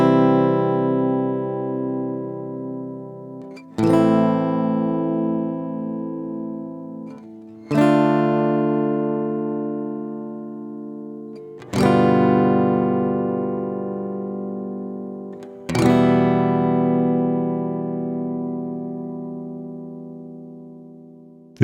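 A Donner Hush-1 silent travel guitar with old strings rings out in five separate strummed chords, each struck sharply and left to decay for about four seconds, with no voices.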